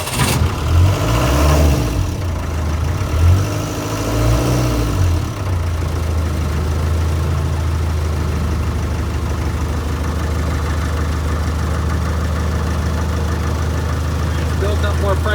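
A 2.25-litre diesel Land Rover engine started up, revved through several rising and falling bursts, then settling into a steady, loud, low idle.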